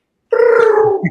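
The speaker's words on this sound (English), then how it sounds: "One of them was the Jetsons, and I thought that was a cool sound to add." A Jetsons-style futuristic tone set as a custom ringtone on an electric car, a single sustained electronic warble with layered harmonics lasting about a second, loud and close with no talking.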